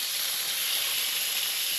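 Steady, loud hiss of frozen garlic brown butter steak steaming and sizzling in a covered pan at a snowy winter tent campsite, close by and continuous with no talking.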